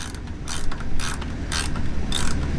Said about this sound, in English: I tighten the upper bolt and the lower bolt.